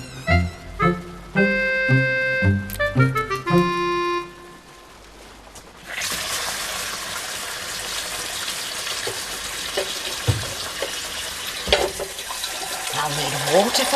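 A kitchen tap is turned on and gushes steadily as water is saved in a container, a broad continuous rush with small splashes, following a short bright musical passage.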